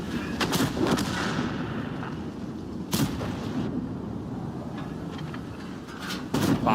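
Tank cannon fire in a tank battle game, several sharp booming shots spaced a few seconds apart over a steady engine and battlefield rumble.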